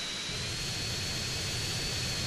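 The Hydra jet from GTA San Andreas gives a loud, constant jet-engine roar, a dense hiss with a steady high whine, unbroken throughout.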